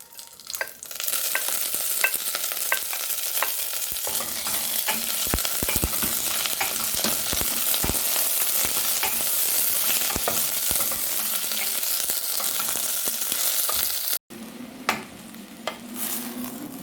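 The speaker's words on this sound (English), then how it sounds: "Now that the spices are spluttering, you can hear the sound." Chilies and mint leaves fry in hot spluttering spices for paneer biryani, a steady close sizzle with frequent sharp pops and crackles and some stirring, running continuously before a brief break near the end.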